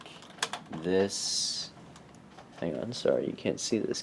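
Typing on a computer keyboard while building a Lego Mindstorms program, a quick burst of close key clicks between stretches of a person talking.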